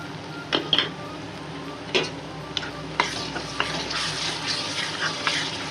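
Ginger garlic paste and onions sauté in a pan for mutton head curry, a steady close sizzle punctuated by sharp scrapes and taps of a spoon stirring against the metal.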